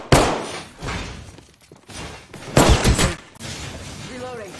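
Gunfire in the Apex Legends battle royale game: a few sharp bursts and impacts spread across the moment, with quieter clatter between, while a voice speaks over the action.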